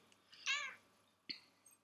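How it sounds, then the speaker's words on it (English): A cat meows once, clear and fairly close, followed a moment later by a second shorter, softer meow in an otherwise quiet room. "Stop meowing at me."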